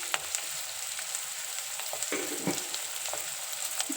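Onions frying in a pan with oil for a leafy greens palya, a steady close sizzle with occasional stirring scrapes throughout, no voices.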